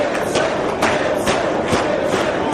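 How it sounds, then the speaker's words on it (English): A wrestling arena crowd roaring to urge on Gibson, a loud, sustained swell of cheering and chanting with a few dull thumps from the ring mixed in. "Listen to this crowd encourage Gibson to keep fighting"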